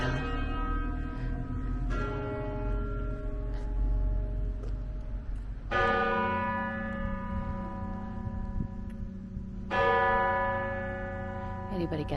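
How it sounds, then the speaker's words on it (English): A church bell at Notre Dame church in Troyes tolls three slow, resonant strokes about four seconds apart, each ringing out with a long decay over low background hum, with no talk. "You hear the bell."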